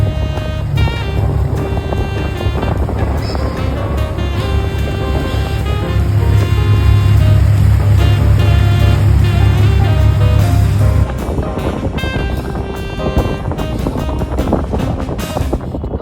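A boat's engine drones low and steady on open water, with wind gusting across the microphone and a higher whine fading out partway through.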